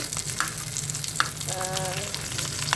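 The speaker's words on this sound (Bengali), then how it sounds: "আর মাছ ভাজি করছি" Fish frying in a pan on a home stove, a low continuous sizzle broken by a few sharp clicks and a short tonal squeak partway through.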